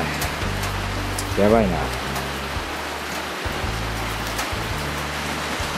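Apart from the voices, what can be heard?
heavy rain falling on a shed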